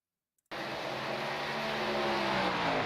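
After a brief silence, loud engine roar kicks in and holds steady, several racing truck engines in an iRacing game at Darlington Raceway droning together with rising pitch.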